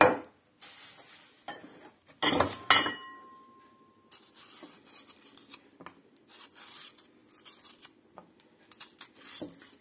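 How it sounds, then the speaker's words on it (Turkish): Red kapya peppers sliced with a knife on a cutting board for a breakfast eggplant dish: close, irregular knife taps and scraping strokes, some quick bursts, with no voices. "Kapya biberlerimizi doğrayalım."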